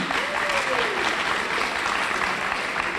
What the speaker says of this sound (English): just one more round of applause for this great program